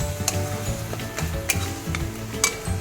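Pointed gourd curry frying with nut paste and ground garam masala, a continuous loud sizzle with repeated spoon scrapes and stirring clatters at an uneven pace, no talk.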